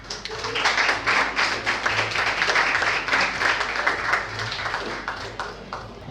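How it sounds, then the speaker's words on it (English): Audience applause follows a spoken word poetry performance in Lagos, a dense wash of many hands clapping at steady volume for about six seconds, with a few voices mixed in. "I don't think he got the round of applause he deserved"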